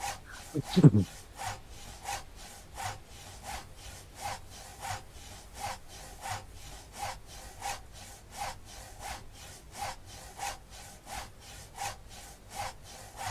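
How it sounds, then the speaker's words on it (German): A saw cuts wood in The Last Plague: Blight video game in a steady, even back-and-forth rhythm of rasping strokes, one roughly every half second, after a brief low sliding sound at the start. "Das wegen der Säge, wie sie so scheiße ist."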